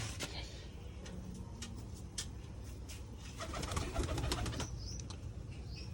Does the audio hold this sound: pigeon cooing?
yes